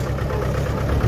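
A tractor engine runs steadily at idle on a farm, a low, even rumble with a mid-pitched throb, close and continuous through the short stretch with no talk.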